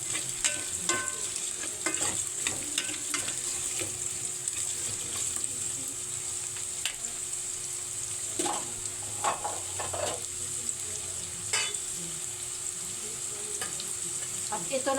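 Carrots and rice for chicken biryani are stirred in a sizzling frying pan, with steady frying hiss and scraping stirs throughout.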